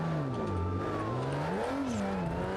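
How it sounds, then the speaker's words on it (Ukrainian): Game car engine in BeamNG Drive revving hard with nitro engaged, a loud continuous whine sliding up and down in pitch, heard alone with no talk. "треба тільки нітрушечку її включити"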